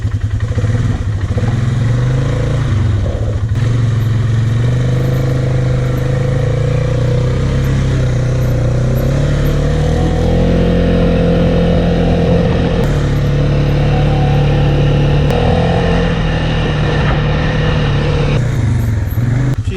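A Polaris Sportsman 570 ATV engine runs steadily and loudly up close while riding around the block, its drone rising and falling slightly in pitch, with some rattling clatter.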